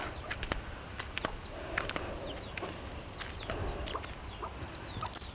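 Two or three hens and a rooster give short, scattered clucks and chirpy calls at close range, quiet but distinct, with occasional soft rustling and no talk.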